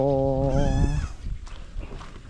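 A goat gives a single drawn-out, wavering bleat close by, followed by quieter rustling and a faint voice in the background.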